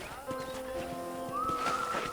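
Horse sounds from a ranch in the video game Red Dead Redemption: hoof clip-clops over a tonal musical backdrop with sustained notes, fairly quiet and close, without speech.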